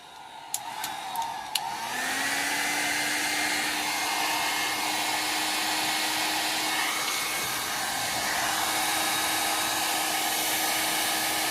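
After a few sharp clicks, a hair dryer switches on and runs with a loud, steady, unbroken whoosh, blowing over wet samples of alcohol ink, acrylic ink and Bombay ink.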